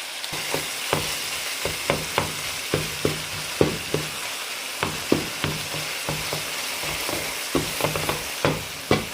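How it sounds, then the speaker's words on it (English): Half a medium onion, chopped fine, sizzles in a pan with a steady frying hiss, broken by frequent sharp clacks and scrapes of stirring at an uneven rhythm, close and fairly loud with no talking. "Now I have about half of a medium-sized onion that I'm adding"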